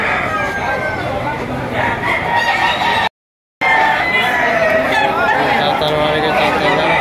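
Roosters crow over a busy open-air chicken market, loud and close among many birds and a steady murmur of voices, with people talking throughout and a brief gap of silence midway.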